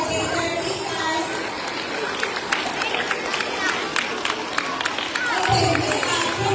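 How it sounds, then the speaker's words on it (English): A school assembly crowd claps steadily in a sustained round of applause, with chatter and a voice speaking over it near the end. "let's give them a round of applause as they take their seats"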